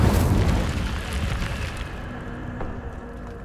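The Incendio fire spell from Hogwarts Legacy erupts in a loud, booming blast that hits at once and then rolls away into a fading, crackling roar.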